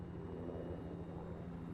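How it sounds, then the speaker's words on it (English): A helicopter flies close overhead in Arma 3, giving a steady loud rotor and engine drone with low rhythmic thumping. It holds constant throughout the short stretch, with no talk over it. "The helicopter's incredibly close."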